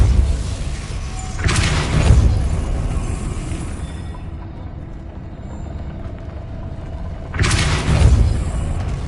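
The Depulso force-push spell goes off in the Hogwarts Legacy video game as two loud, booming whooshes several seconds apart. Each has a sharp onset and a rumbling low tail, with steady game ambience between them.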